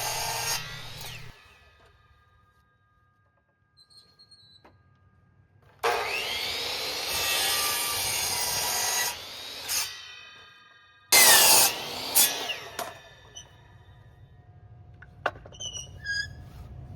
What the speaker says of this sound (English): I'll be getting these pieces cut on my miter saw here